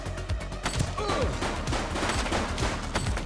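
Gunfire in the police video game The Precinct, a dense mix of overlapping shots and bursts, some close and sharp, others sharper and more distant, with whizzing ricochets throughout.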